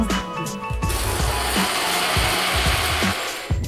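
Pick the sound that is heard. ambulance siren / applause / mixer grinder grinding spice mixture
mixer grinder grinding spice mixture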